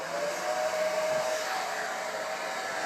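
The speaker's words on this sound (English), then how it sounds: "we're going to grab our hair dryer" Hair dryer blowing on a wet acrylic pour painting, a steady loud whooshing roar with a thin whine, continuous and close throughout, with no talking.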